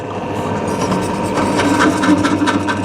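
A steady, loud drill motor whine with a rough grinding rattle as the bit bites through metal while making a car rotisserie, continuous for a few seconds without speech.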